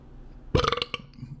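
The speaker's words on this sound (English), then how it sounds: "Just rate the burp." A single loud, close burp erupts abruptly, rumbling for about half a second before trailing off.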